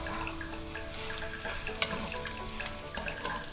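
Rice added and stirred into Schezwan egg fried rice in a pan, with a steady close sizzle and a few brief scraping knocks as it is mixed.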